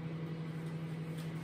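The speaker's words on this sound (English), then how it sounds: "Put in the microwave for a minute and 30 seconds." A microwave oven runs with a steady low electrical hum, faint and constant, with no voices or other sounds.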